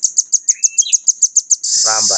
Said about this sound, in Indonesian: burung rambatan anaan. Masih kecil udah rajin nembak.